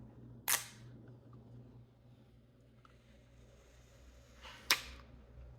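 A protective sticker is peeled off a new Galaxy S23 Ultra phone in a quiet room, giving two short, crisp tearing bursts about four seconds apart, close and distinct against faint background hum.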